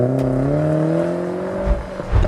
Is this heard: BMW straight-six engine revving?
yes